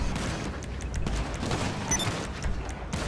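Rapid bursts of gunfire in Grand Theft Auto V, a dense, continuous crackle of shots lasting a few seconds with no speech over it.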